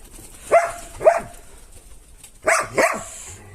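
A dog barks near a pigeon loft while birds are being fed: four loud, close barks in two quick pairs with quiet gaps between.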